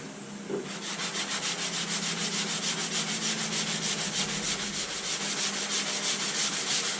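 Body filler on a car panel hand-sanded with a sanding block, quick, even back-and-forth rasping strokes in a steady rhythm, close and continuous with no talking.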